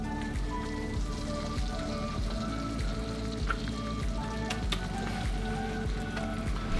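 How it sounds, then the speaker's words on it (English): Walleye fillets frying in butter with Cajun seasoning, a steady close sizzle and crackle with faint pops and spits running throughout, no talking. "I'm actually gonna start cooking my fillets."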